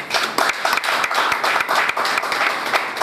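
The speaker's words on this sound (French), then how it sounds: "Je voudrais vraiment que vous applaudissiez pour son Excellence" A crowd applauds steadily for an honoured guest, a dense, lively patter of many hands clapping at close range, sustained throughout without pause.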